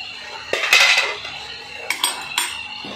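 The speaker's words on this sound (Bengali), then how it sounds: "এবার আমি ঢাকনাটা খুলে নিচ্ছি।" A metal pot lid is lifted while chital fish cooks in a sour-spicy curry, giving a few sharp clinks and clatters of metal on the pot, fairly close, with quiet pauses between.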